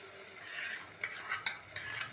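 Tomato paste sizzles with softened capsicum in a pan for pav bhaji, a quiet close hiss broken by several scraping strokes of a spatula stirring the mixture.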